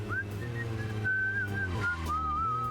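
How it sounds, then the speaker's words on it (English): A character in the video game Deadly Premonition whistles a wandering tune to himself, a clear single melodic line over a low, steady background hum, with no talk. "Oh, you're whistling to yourself."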